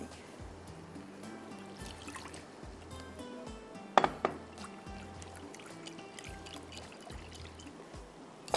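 Liquid such as milk or water is poured into a pan while making a biscuit trifle, a faint quiet trickle with a sharp clink partway through and light handling sounds.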